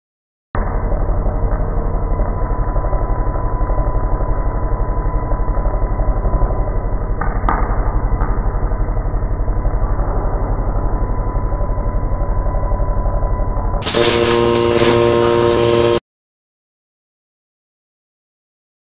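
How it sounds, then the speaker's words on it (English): Robotic MIG welder running on an RMD pulse power supply (Miller Auto-Continuum) along an oiled stamped part, giving a steady, continuous buzzing hum for about thirteen seconds, then a brief louder, harsher tonal burst before it stops. "listen to the consistent RMD pulse from the power supply"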